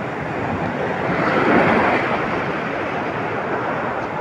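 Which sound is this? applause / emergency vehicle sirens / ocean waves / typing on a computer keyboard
ocean waves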